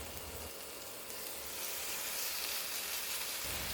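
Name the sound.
mushrooms, carrot, green onion and marinated beef frying in a pan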